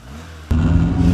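Engine of a 1982 Lancia Montecarlo with a 120 PS Lampredi twin-cam, a brief mechanical rumble that jumps suddenly louder halfway through as revs rise.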